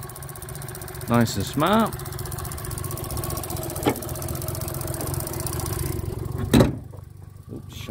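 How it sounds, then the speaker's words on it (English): The small three-cylinder twin-cam engine of a 1994 Suzuki Cappuccino runs at a steady idle close by, with someone speaking briefly over it and a few short clanks near the end. "Little three cylinder twin cam, but they do know how to make an engine"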